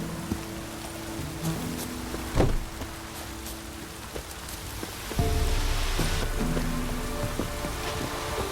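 Steady rain in the video game The Witcher 3: Wild Hunt patters across surfaces with broadband hiss, a few sharper drops and thuds, and a heavier wash of rain building in the second half.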